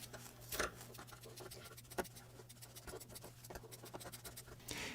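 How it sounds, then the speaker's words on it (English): Scissors snip through fabric around the seam of a handmade cat toy, giving soft scratchy cuts and small clicks spread across the stretch, faint and close with no talking. "we're going to cut on the outside there."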